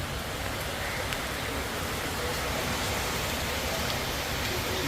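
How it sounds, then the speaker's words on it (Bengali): Heavy monsoon downpour in a Bengali village, a steady, unbroken wash of falling rain, loud and close, with no other sounds standing out. "এত হারে বৃষ্টি হচ্ছে মুসলধারে বৃষ্টি হচ্ছে"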